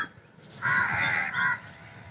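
Crows caw several times in a short run of harsh calls, moderately near and fairly quiet, against a soft background with no speech.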